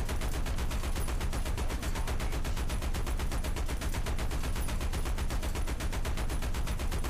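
Relentless rapid automatic gunfire from an armored car in the War Thunder video game, an unbroken fast rhythmic stream of loud shots lasting the whole stretch with no pauses.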